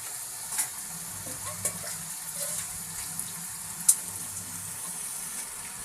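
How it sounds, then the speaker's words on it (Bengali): Chicken pieces lightly frying in a pan over a low gas flame for yakhni pulao, giving a soft continuous sizzle with a few sharp pops and clinks, quiet and close, with no talking. "চিকেনটা হালকা ভাজা হয়ে গেছে"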